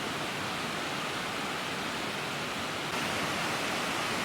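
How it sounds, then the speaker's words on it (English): Lower Cascade Falls, a waterfall about 200 feet tall on a mountainside near Ouray, Colorado, gives a dense, steady, loud roar of falling water that fills everything with no break and no voices. "This waterfall is about 200 feet tall."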